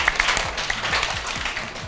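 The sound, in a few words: class applauding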